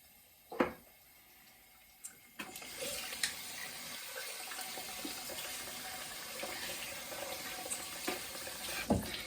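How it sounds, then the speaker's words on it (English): A water tap runs steadily beside a sink. After a couple of sharp clunks, a constant stream pours from about two seconds in to the end, with a few knocks on top. "I have the tap running all the time"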